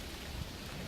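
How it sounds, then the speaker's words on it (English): Heavy rain pours down outdoors in a remote spot, a dense, steady hiss of drops with no pauses, and a low rumble swells briefly partway through. "But there's loads of rain coming down."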